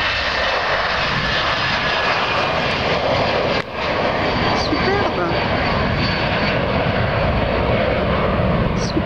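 Airplane taking off at night from Geneva Airport, a loud continuous engine roar that stays broad and sustained throughout, heard from close by.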